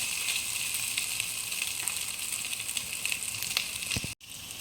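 Continuous loud sizzling of fried rice frying with egg in a hot pan, then a brief sharp cutoff near the end before the sizzle resumes.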